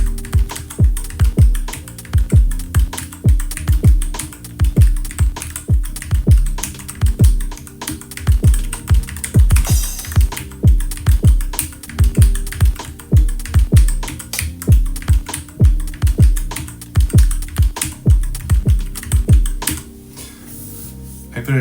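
Buttons on a Teenage Engineering EP-133 sampler are pressed in a steady rhythmic stream of clicky taps, close and loud, each press firing punchy drum sounds from the sampler.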